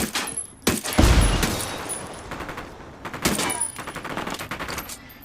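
Gunfire from the video game Ghost Recon Wildlands: several loud bursts of shots with rapid cracks, a heavy boom near the start, then renewed volleys through the middle and end.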